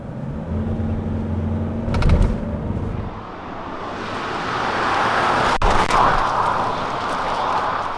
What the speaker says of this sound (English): So you'll notice and feel the noise and vibration coming from the engine room when it's idling.